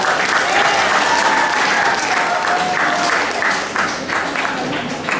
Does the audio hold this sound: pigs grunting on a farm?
no